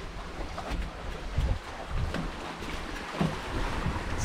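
F36 trimaran sailing downwind in light wind, with soft water wash against the hulls and steady breezy wind noise on the microphone, a few low thumps of waves, no talk.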